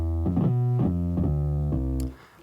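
A gritty, distorted drive synth bass in BandLab plays a few sustained low notes in a row for a drill beat, each sliding into the next, then cuts off.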